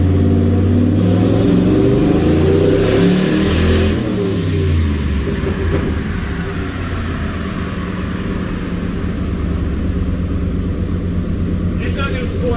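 Turbocharged EFI 460 V8 on a dyno, revving hard with a deep, loud roar that rises and then holds steady before easing, while voices talk over it.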